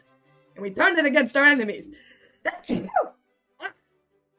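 A single short, sharp sneeze, faint and brief, follows a stretch of close conversational talk at a tabletop Starfinder role-playing session.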